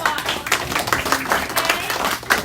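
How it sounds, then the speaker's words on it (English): A room full of participants at a teacher learning lab claps for themselves, brisk, dense applause with sharp overlapping hand claps at close range. "Give yourselves a round of applause"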